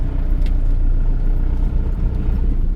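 A used Isuzu TFR pickup driving in third gear, its engine a steady low rumble close by with continuous road noise and no talking.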